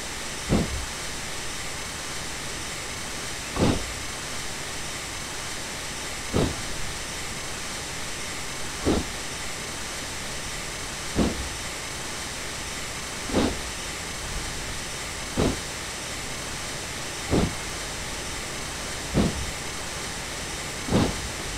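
A steady steam hiss runs throughout, with regular chuffing beats about every two seconds, a steam locomotive working along in the video game Railworks 3 Train Simulator 2012.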